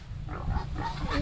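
A pig at a farm clearing grunting and snuffling close by in a steady run of low, rough grunts, fairly loud, with faint background noise.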